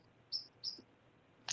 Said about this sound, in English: Did you guys hear a bird chirping or something?